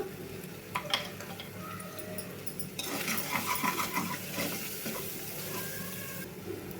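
Ginger garlic paste and a handful of cashews fry in a pan for biryani, giving a continuous sizzle that swells louder midway, with stirring scrapes and no voices.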